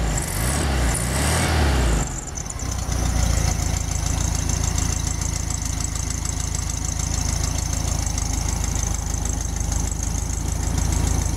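A 1965 VW convertible engine idling, a steady close mechanical chatter with a rapid even beat; a brief louder bump in the first two seconds, then a constant drone.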